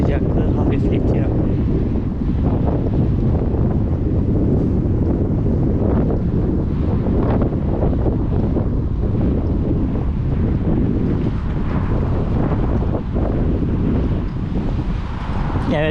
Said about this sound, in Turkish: Singapur biraz rüzgarlı.